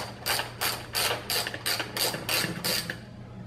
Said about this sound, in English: you're just going to loosen these bolts up